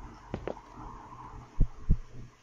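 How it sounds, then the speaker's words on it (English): Heartbeat effect in the horror game One Late Night, an office setting: a few deep low thumps in pairs, a quiet double beat early and two stronger beats near the end over a low hum. "Where's my heartbeat going?"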